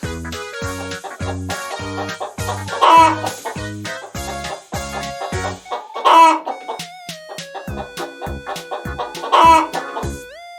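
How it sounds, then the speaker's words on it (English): Chickens clucking in a steady rhythmic series of close, loud calls, with a rooster crowing through it several times. "Absolutely, it's the chicken."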